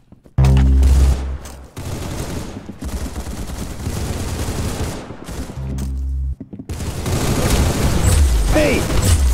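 Gunfire in the Roblox shooter Arsenal: loud bursts of rapid automatic shots and heavy booms fill most of the stretch, stopping in two short gaps, with game effects near the end.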